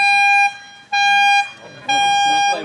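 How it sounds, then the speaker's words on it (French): Three long, loud foghorn blasts with a steady bright tone, separated by short pauses, at a golf tournament. "vous venez d'entendre la corne de brume siffler juste ici"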